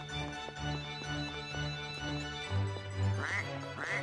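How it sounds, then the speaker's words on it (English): A cartoonish duck quack from Suikoden, played as the failure sound, repeats twice near the end over steady game background music. "The duck sound for failing things."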